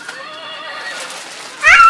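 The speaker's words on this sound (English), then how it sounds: "That's the noise a horse makes." A toy horse gives a bright electronic whinny with a wavering, falling pitch, followed by a short burst of louder sound at the end.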